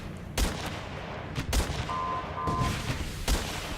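Rocket launches and gunfire in the combat strategy video game Guns Up!, several sharp blasts spaced across a few seconds over a steady low battle rumble, with a faint tonal whine in the middle.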